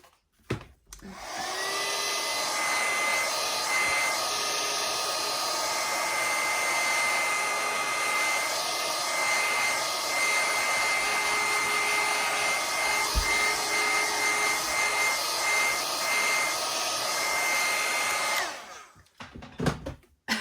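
Hair dryer blowing on watercolour paint on a card, a loud, steady whir close by that runs for most of the stretch before switching off.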